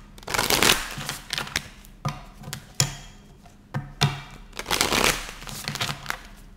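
Tarot cards being shuffled by hand at close range, coming in several quick riffling bursts separated by short pauses and soft taps, with no talking.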